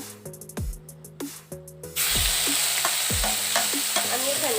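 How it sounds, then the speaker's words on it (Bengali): Onion paste for a masala fish curry, a Bengali doi katla, goes into a hot pan. Before it a utensil clinks and taps a few times; then a loud, continuous sizzle and fry fills the rest, with brief speech over it. "এবার দিয়ে দিচ্ছি পেঁয়াজ বাটা।"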